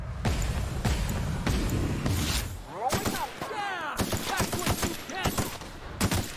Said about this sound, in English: now shooting things feels just like very refreshing